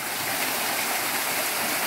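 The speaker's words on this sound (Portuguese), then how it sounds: "chegamos aqui na cachoeira" Small waterfall about three metres high at the Morro do Paxixi lookout in Mato Grosso do Sul, a close, loud, steady rush of falling water that holds constant throughout with no voices.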